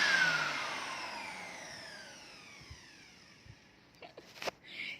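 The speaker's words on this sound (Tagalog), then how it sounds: "Ang ingay ng blower mo." A hair blower runs while someone's hair is being styled, its loud whooshing hum strongest at first and gradually fading, with a few clicks and knocks near the end.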